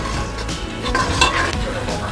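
Masala stir-fried with a splash of water in a pressure cooker for egg biryani: a continuous loud sizzle with scraping and clinking of a spoon against the metal pot throughout.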